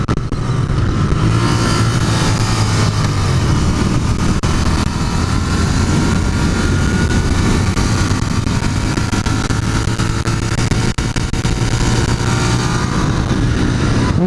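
A Royal Enfield Continental GT 650 café racer motorcycle rides along with its engine droning loud and steady throughout, a constant rumble with wind noise and no noticeable pauses or talk.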